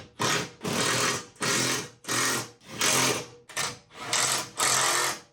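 Impact gun bursts fastening parts of a CFMOTO ATV door during installation, about seven loud, rapid buzzing runs in a steady rhythm, close up, with short pauses between.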